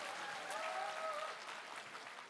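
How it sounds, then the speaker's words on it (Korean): An audience at a political speech in Daegu–Gyeongbuk claps together, a dense, moderately distant patter of applause that slowly fades over two seconds. "박수 한번 쳐주십시오"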